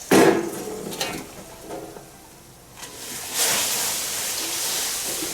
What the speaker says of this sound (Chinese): 水开了，把旺子呢倒在这头。